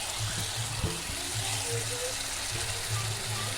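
Water and fried potatoes go into a pan of cooked-down spices, giving a steady broad sizzle and bubbling with low tonal hum underneath and a brief clatter near the start.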